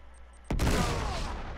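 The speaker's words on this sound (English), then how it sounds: "L1 to throw a grenade" Grenade thrown and exploding in Uncharted 3, a few quiet beeps before a sudden sharp loud blast that rolls into a long crackling, rumbling decay.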